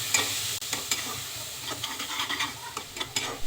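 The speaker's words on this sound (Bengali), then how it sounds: "উপকরণগুলোকে একসাথে ভালোভাবে মিশিয়ে নেব।" Onion paste with salt, turmeric, coriander and cumin powder being stirred in a hot pan: a steady close sizzle with scraping, clattering strokes of the spoon, and no talking.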